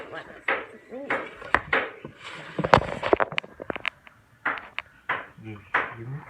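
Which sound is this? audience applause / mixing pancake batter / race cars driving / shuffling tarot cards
mixing pancake batter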